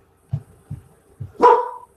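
During an online group hangout, a few soft low thumps are followed by a single loud, close dog bark that trails off quickly.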